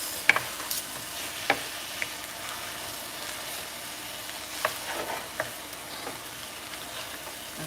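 Hibachi fried rice frying in butter sizzles steadily at home, with scattered clicks and taps of a spatula stirring and chopping the rice on the hot surface.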